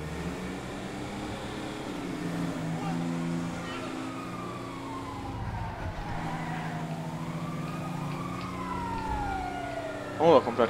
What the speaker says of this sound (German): Oh, da kommt gleich der Krankenwagen